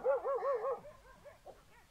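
Several dogs bark in a quick run of sharp, close yaps that then trail off into fainter, more distant barks over about two seconds.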